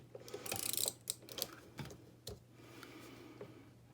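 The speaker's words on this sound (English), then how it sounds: "I will just use some of my tape runner to stick that on" Tape runner laying adhesive onto a paper page marker for a planner, giving a burst of quick clicking and ratcheting near the mic, then scattered softer clicks and taps with no voices.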